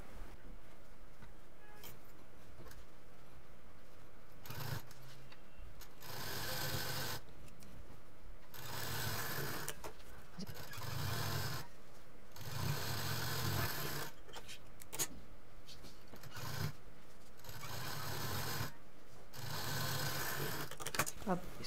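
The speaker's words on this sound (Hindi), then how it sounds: "अब इसको भी सेम प्रोसीजर में रखते हुए सिल देंगे।" A sewing machine stitches a zipper and piping onto a side bag in repeated bursts of steady whirring, with short pauses between runs and a voice speaking quietly underneath.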